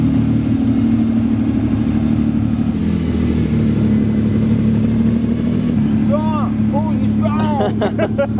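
Classic Lamborghini engine running steadily at close range, a low, continuous rumble holding throughout, with voices talking over it toward the end.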